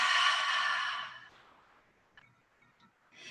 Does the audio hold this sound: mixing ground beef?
no